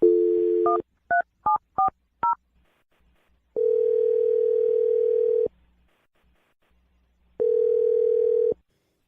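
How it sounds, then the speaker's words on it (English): A rapid series of short phone keypad tones, about five beeps, followed by two long steady ringback tones separated by silence. "I'm going to dial Jake's phone number right now"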